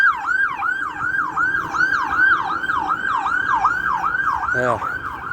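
An ambulance siren on a street in Dublin, loud and close, wailing in a fast, steady up-and-down yelp that repeats about a dozen times, with a brief lower blip near the end.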